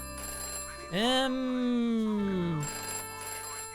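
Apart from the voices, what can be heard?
telephone ringing in Fallen Aces video game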